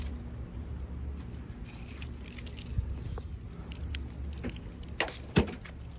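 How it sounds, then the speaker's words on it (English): Keys jangle close by in short metallic bursts, with sharper clinks near the end, during spark plug work on a Honda Accord; a low engine or road rumble continues underneath. "My keys."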